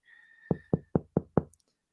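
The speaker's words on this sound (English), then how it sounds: "I think someone's at the door." Five sharp knocks on a door, evenly spaced and loud, following a faint high electronic tone; no one speaks.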